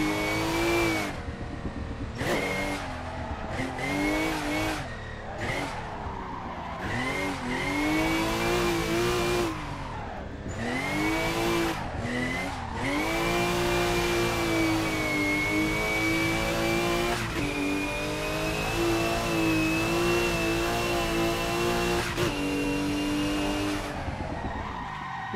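A drifting car's engine revs hard and rises and falls through a long cornering run, with tires skidding and squealing loudly almost without a break, close and dominant with no talking.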